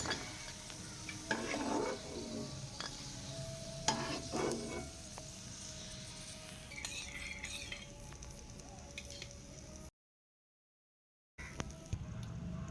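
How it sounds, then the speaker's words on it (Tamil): Cashews and raisins frying in ghee in a pan for pineapple kesari, with a quiet sizzle broken by a few scraping stirs of a spoon, then a brief full silence before the frying resumes. "முந்திரியும் திராட்சையும் வறுப்பட்டுட்டு இப்போ இதை ஒரு பிளேட்டுக்கு மாற்றிக்கலாம்."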